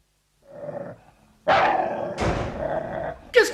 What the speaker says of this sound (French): Qu'est-ce que c'est que ça? Un chien!